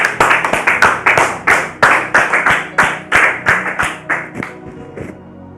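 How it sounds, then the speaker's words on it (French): An audience claps to welcome Monsieur Aliko, a sequence of about fifteen sharp, distinct claps in a steady rhythm, close and loud, slowing and fading near the end. "Merci de recevoir Monsieur Aliko sur vos applaudissements."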